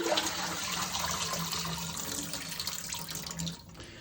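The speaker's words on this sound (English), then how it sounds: "each individual rib, you want to carefully go in and rinse off with the cold water" Cold water runs steadily from a kitchen tap as beef short ribs that had been soaking are rinsed, a continuous close splashing hiss that lasts the whole stretch and dips slightly near the end.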